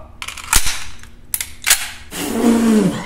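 Desert Eagle .44 Magnum pistol firing in rapid succession, with several loud, sharp reports and mechanical clacks, followed by a ringing, echoing tail.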